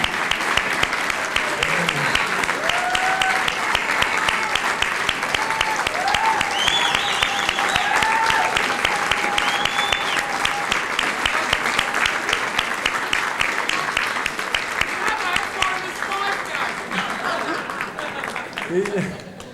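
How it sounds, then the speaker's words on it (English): Long standing ovation at a Chabad center dedication, dense steady applause from a large audience with cheers and voices mixed in throughout. "Let's give him a standing ovation"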